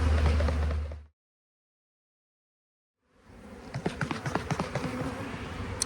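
Honeybees loud and agitated inside a cup shaken for varroa mite monitoring, a dense buzzing that cuts off abruptly into silence, then returns with scattered taps and rustles as the bees resume.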